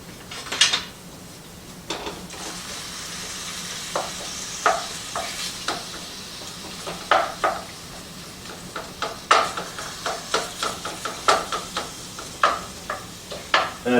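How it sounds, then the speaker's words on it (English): Hamburger meat sizzling in a skillet while being stirred, a steady soft frying hiss under repeated sharp scrapes and clicks of the utensil against the pan, close and moderately loud. "we've added the hamburger to the skillet."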